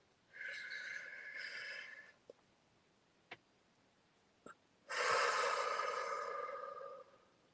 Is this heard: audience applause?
no